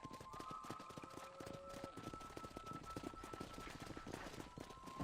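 Galloping horse hooves in Red Dead Redemption on Nintendo Switch, a fast, steady pounding rhythm kept up throughout at moderate loudness beneath a sustained musical tone.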